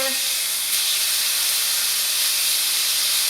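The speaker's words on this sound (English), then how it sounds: "Once your bacon is seared on all sides, go ahead and sear" Bacon-wrapped filet mignon searing in a hot pan, a loud steady sizzling hiss that holds constant throughout with no talking.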